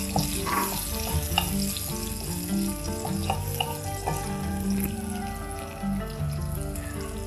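Finely chopped shallots fry in a pan with a steady, moderate sizzle, punctuated by light stirring clicks over a faint tonal hum. Nobody speaks.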